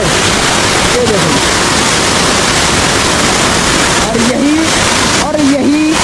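Mountain stream in the Uttarakhand Himalaya rushing steadily toward a waterfall, a loud, constant broadband wash of flowing water, with a voice speaking briefly over it near the end.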